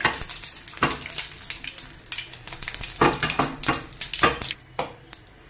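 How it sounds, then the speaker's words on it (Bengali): Whole spices for a raw mango chutney, including bay leaf, cardamom, five-spice and white and black mustard seeds, hit hot oil in a pan, crackling and popping in sharp irregular bursts with close, lively sizzling and the odd utensil clink. "আমি তেজপাতাটা দিয়ে দেব, আর এই এলাচ, 5 ফোড়ন, সর্ষে সাদা কালো দিয়ে দেব, ফোড়নটা দিয়ে নেব"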